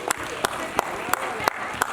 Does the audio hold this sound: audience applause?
yes